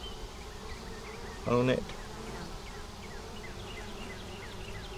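Honey bees buzz steadily around a hive frame holding honey, nectar and pollen, a continuous close drone with a brief louder burst of buzzing near one spot, and a voice speaks briefly.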